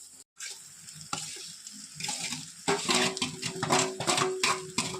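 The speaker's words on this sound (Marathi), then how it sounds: "आता आपण यामध्ये फ्राय केलेली भेंडी टाकू" Fried okra dropped into tomato masala in a pan, sizzling and crackling loudly as it is stirred, with scraping and clattering strokes coming closer together as the mixing goes on.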